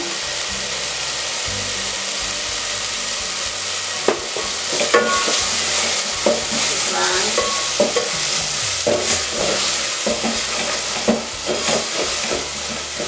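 Eggs with salt stirred and frying in a pan, a steady sizzle running throughout with repeated scraping and clicking of the utensil against the pan, close and fairly loud, no voices.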